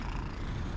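A cat in a small park in Istanbul purrs close and steady, a low continuous rumble lasting under a second with no voices.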